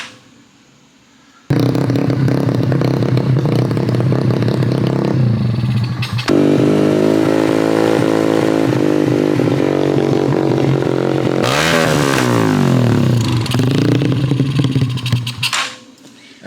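A Condor RPS 150 Chinese mini bike engine fires up after a quiet moment and runs loud and rough up close, settling into a steady idle before the revs climb and wobble, then it cuts off at the end.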